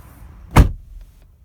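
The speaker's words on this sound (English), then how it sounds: "shutting the door on the Stelvio" A single solid thud of a 2018 Alfa Romeo Stelvio Quadrifoglio SUV door slamming shut nearby, with no rattle, followed by quiet cabin stillness with a couple of faint clicks.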